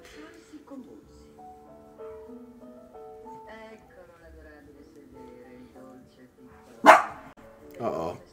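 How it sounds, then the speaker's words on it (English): A dog gives a sharp, loud bark near the end, then a shorter second bark, over quiet background music while people talk. "I guess the dog's not having it."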